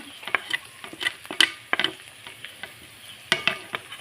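Ground chilli, coriander and cumin powders with salt being stir-fried in a pan, heard as a quiet background sizzle broken by sharp, irregular scraping clicks of a spatula against the pan.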